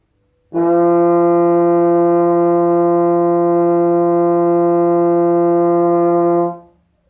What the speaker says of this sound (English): you'll get a note called F, which sounds a bit like this.